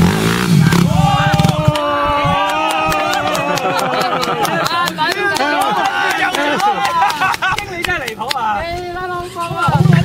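A motorcycle left with the key in on a cold day idles underneath, largely covered by loud Cantonese talk between riders close by.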